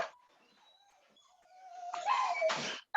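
Dogs whimper and yip in high, thin whines, quiet at first and then rising into louder, brighter cries and a sharp bark near the end.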